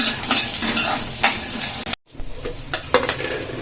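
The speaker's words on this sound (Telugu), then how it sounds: "పల్లీలు మంచిగా వేగిన తర్వాత వేసుకోవాలి ఎందుకంటే జీలకర్ర అనేది తొందరగా వేగుతుంది కదా" Peanuts and cumin seeds crackle and sizzle in hot oil in a pan, with close, continuous stirring and occasional metallic scrapes of a spoon against the pan. A brief break interrupts it midway.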